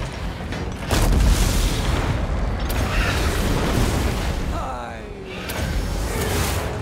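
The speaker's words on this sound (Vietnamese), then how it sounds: "Pháo nó bắn cũng dữ nhỉ." Cannon artillery fires in a Total War: Warhammer II battle, with heavy booming blasts and rumbling that roll almost continuously, loud and dense, and a voice faintly mixed in.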